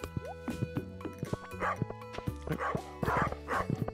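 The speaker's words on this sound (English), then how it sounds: "You can definitely hear the dogs more than you can hear the cats." Dogs bark in Stardew Valley, with repeated short yips and woofs in an uneven rhythm over steady game music.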